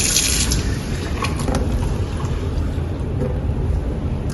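Regular tap water pours steadily into a glass that already holds turmeric, a continuous close splashing and gurgling fill with no pauses and no voices.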